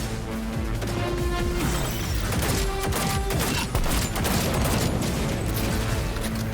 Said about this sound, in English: my hip fire shots are pretty good today